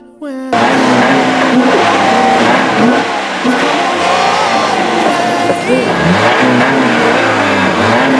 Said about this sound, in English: Alright, both of you rev your engine.